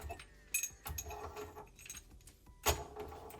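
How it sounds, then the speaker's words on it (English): A slide hammer yanks a worn seal out of a heated front fork leg on a 1980 Honda CB750F, giving a few sharp metallic clanks and jingles over a low background of workshop rattling. "I'm using a slide hammer."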